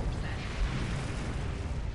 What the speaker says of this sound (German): Der hat mich jetzt gerade mit ein paar Schuss ausgeschaltet.